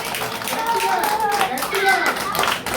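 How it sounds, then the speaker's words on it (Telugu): Children in a Sunday school class clap their hands together in a quick burst of applause, mixed with voices talking over it. "మంచివాళ్ళందరూ క్లాప్స్ కొట్టాలి గట్టిగా గట్టిగా గట్టిగా"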